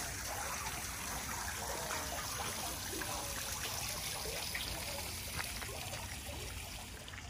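Runoff water draining down from Mount Royal in a Montreal park makes a steady splashing, trickling rush, constant and fairly close, with no talk over it.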